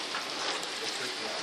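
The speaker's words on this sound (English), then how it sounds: "We didn't even know it was gonna hail." Hail falls in a backyard as a dense, steady hiss of pellets striking the ground and surfaces, continuous and fairly loud with no voices.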